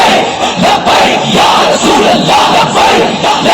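Loud crowd of many voices chanting religious-political slogans at a rally of the Tehreek Labbaik Pakistan movement, rising and falling in steady repeated bursts for the whole stretch.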